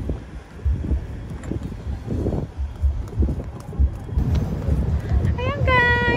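Outdoor wind in a breezy urban spot, gusty buffeting rumble against the microphone throughout, with people talking nearby.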